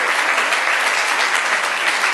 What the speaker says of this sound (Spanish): Den ese aplauso a Dios, hermano, por usted mismo.